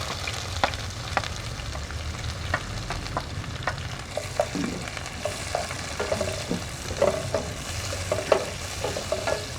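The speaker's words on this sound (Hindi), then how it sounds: "प्याज और लहसुन की अच्छी तरह से भुनाई कर देंगे" Onion and garlic fry in hot ghee in a pot, giving a soft continuous sizzle broken by frequent scraping stirs, close and moderately quiet.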